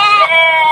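A goat bleats once at a Padre Garcia, Batangas livestock market, a loud, close, wavering cry held for under a second.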